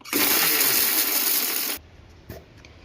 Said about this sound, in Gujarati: આવી રીતે આમ ઝટકા મારીને પીસવાનું